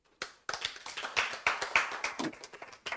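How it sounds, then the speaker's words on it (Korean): Scattered clapping during a Korean church service, a handful of distinct, fairly close hand claps in loose rhythm, with faint voice traces between them. "박수."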